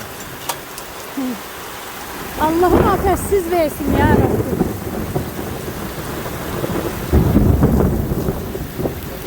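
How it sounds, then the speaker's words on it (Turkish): Heavy, large hail pounds down outdoors during a storm, a dense steady roar with rumbles of thunder, while someone talks and exclaims over it nearby. "Çok iri iri dolu yağdı."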